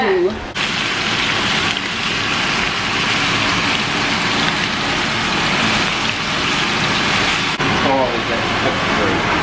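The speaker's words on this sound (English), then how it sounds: "Can't hear nothing because of the fan." A kitchen exhaust fan roars with a loud, constant whoosh that fills the whole stretch and barely changes.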